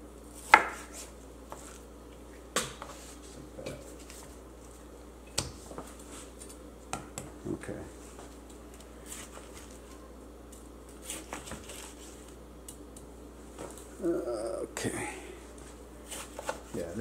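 A knife cuts through beef chuck for grinding, sparse soft chopping and clacking strikes scattered between stretches of someone talking, close and fairly quiet.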